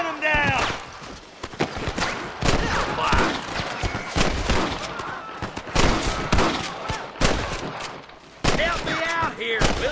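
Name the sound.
gunfire from gunfight in Red Dead Redemption video game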